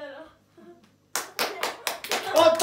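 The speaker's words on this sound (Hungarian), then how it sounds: "Ott a taps" An audience at a children's entertainment show breaks into a short burst of hand clapping after a few spoken words, loud and close with several quick distinct claps.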